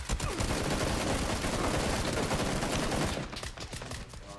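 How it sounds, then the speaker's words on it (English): Rapid automatic gunfire in the video game Fortnite rattles loudly and continuously for about three seconds, then drops to sparser, quieter shots. "He's shooting at me."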